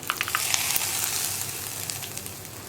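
A spatula stirs green gram and spinach thoran in a pan, with light scraping and soft sizzling, steady and close, no voices.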